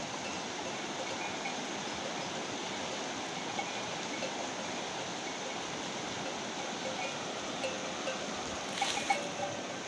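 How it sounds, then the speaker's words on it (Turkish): Steady broadband rushing of a flowing mountain stream fills the whole stretch, continuous and even, with a few faint knocks near the end. "Bu suyun sesinde, derenin sesinde çok güzel uyunuyor"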